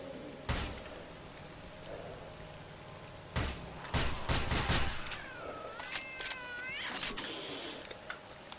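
Cat meowing in the survival video game Misery, rising yowls near the end of the clip amid sharp impacts and bursts of gunfire-like bangs.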